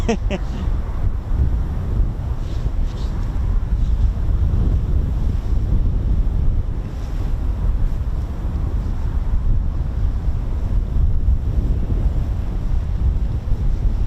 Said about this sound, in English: it's quite a windy one today